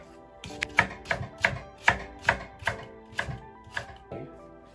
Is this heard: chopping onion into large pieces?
yes